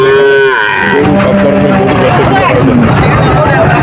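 Cattle and calves moo loudly and repeatedly at a busy rural cattle market in Bangladesh, with a steady crowd babble of voices filling the background throughout.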